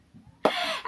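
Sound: throat clearing

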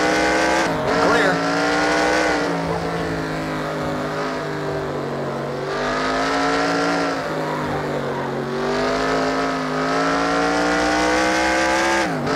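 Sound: race cars on track in NR2003 racing video game

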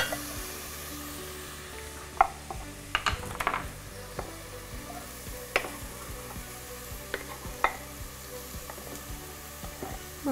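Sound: onions frying with meat in a pan

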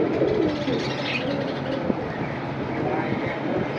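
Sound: pigeons cooing

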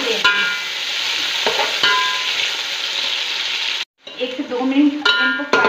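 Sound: sliced onions frying in a pan

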